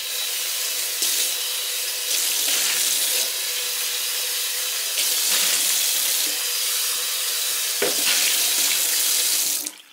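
Running kitchen tap water while a kitchen item is rinsed under it, a steady close hiss with brief louder splashes where the stream hits the item, ending abruptly as the tap shuts off.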